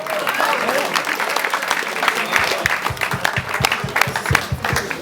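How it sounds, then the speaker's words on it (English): A crowd at an all-style dance battle in Montreuil bursts into sustained applause, a dense wash of many hands clapping that carries on steadily while a voice talks over it. "Est-ce qu'on peut les applaudir comme il se doit, s'il vous plaît?"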